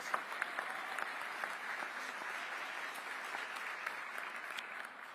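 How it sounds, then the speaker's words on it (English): Audience applause at a Pennsylvania Senate ceremonial celebration, a steady even wash of many hands clapping in a large room, heard from a distance and fairly soft, fading slightly at the end. "Let's give him a round of applause."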